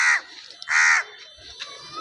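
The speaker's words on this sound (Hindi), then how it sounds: "देखो, हमारे टेरेस पे कौवा भी है," Two loud, close crow caws sound from a rooftop terrace garden, each harsh and drawn out, followed by faint background sound.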